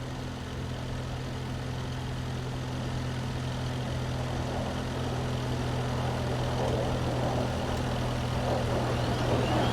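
Jet engine starting up in a DCS World combat flight simulator, a steady droning hum with a low tonal whine that builds gradually in intensity.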